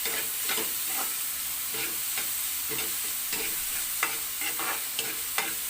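Pork stir-fries in a pan for adobong sitaw, a continuous sizzling hiss broken by regular scraping strokes of a spatula every half second or so, close and fairly loud, with no talking.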